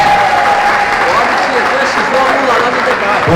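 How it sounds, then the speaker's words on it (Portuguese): Dense, loud applause from an audience at a conservative gathering in São Caetano do Sul, continuous clapping throughout with faint crowd murmur underneath. "Com a palavra, Padre Kelmo, uma salva de palmas."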